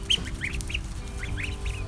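Ducklings on a homestead give a quick series of high, short peeping quacks near an electric fence, close by over a low steady background hum.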